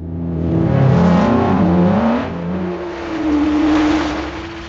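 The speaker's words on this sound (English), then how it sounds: "A racing car is passing by and disappears." AI-generated racing car passing by: a loud engine roar rises and shifts pitch as it sweeps past, then holds a high whine before slowly fading away, with no talk.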